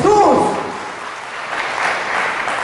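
Applause from a church congregation during a Catholic healing sermon, a broad steady clapping wash that swells and lingers at moderate loudness after a brief raised voice at the start.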